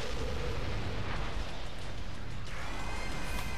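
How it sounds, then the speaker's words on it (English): Killing Floor 2 weapons fire randomly in a steady, dense roar of overlapping shots and blasts, loud and close, with no clear pauses throughout. "I'm just firing randomly, so it looks like I'm doing work"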